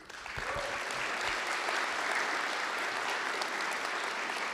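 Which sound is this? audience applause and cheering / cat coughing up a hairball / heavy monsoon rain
audience applause and cheering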